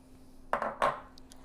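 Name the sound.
mixing salt with egg whites in a bowl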